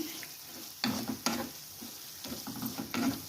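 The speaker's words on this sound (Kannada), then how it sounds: "ಪನ್ನೀರ್ ಹಾಕೊಂಡು ಸ್ವಲ್ಪ ಫ್ರೈ ಮಾಡ್ಕೋಬೇಕು" Paneer cubes frying in masala in a pan, with soft sizzling and several bursts of stirring and scraping, fairly quiet and close.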